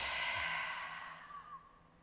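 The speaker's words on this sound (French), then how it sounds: "une très longue expire par la bouche" Long breathy exhale through the mouth during a yoga session, a soft airy rush lasting about two seconds that gradually fades, with no talking.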